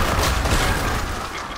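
A cannon shot strikes a ship in the video game Sea of Thieves, a dense, loud booming impact with rumbling low end that fills the whole moment and slowly fades.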